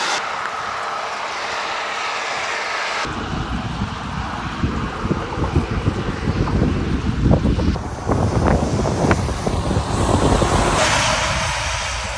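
Heavy road traffic roars past a cyclist on a bikepacking trip through Belarus, a steady loud rumble of vehicles with repeated whooshing passes and wind buffeting close to the microphone, no talking.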